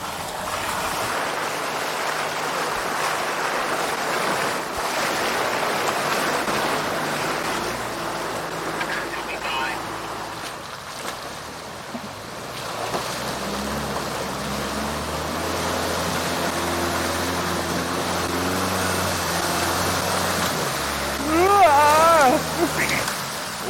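Water rushing steadily across an off-road trail crossing in Land Between the Lakes, Tennessee, in January, with a vehicle engine humming beneath it and people talking at times.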